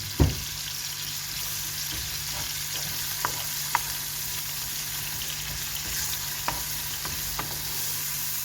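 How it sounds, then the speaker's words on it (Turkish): Ground meat frying in oil in a pan, a steady sizzle with occasional soft clicks and scrapes as it is stirred, heard alone without talk. "Evet şöyle kıymamız kavruluyor. Şimdi o karıştıralım şöyle bakın."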